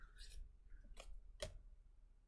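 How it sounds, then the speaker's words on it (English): Scissors snipping a tag off a wig, a few quick separate cuts close by at a quiet level, with a faint click at the end. "Where's my handy dandy scissors? My skizzers. Alright, let me cut that right there."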